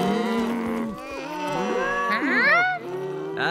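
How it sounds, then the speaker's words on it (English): Several Scottish cows in a cartoon moo in turn, long low bellowing calls that rise and fall, overlapping at times and fairly close. "They're just cows. They're Scottish cows."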